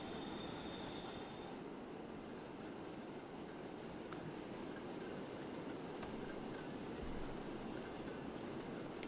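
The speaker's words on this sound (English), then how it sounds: "So what I'm hearing is that train." Train running on rails in the Transport Fever 2 game, a steady rumbling roll with faint wheel squeal and occasional metallic clicks, continuous and fairly quiet, with no talk.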